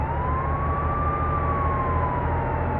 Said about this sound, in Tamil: பெங்களூர் போலீஸ் வண்டி